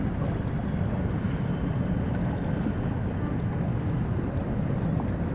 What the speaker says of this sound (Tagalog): Puno yung loaded yung bangka ko ngayon